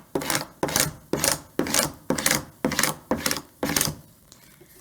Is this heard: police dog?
no